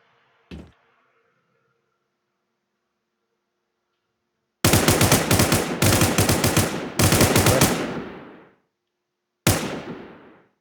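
Gunfire in the battle royale video game Infestation The NewZ: one sharp shot, a pause, then several loud rapid bursts with ringing tails and a final short burst, with no talking.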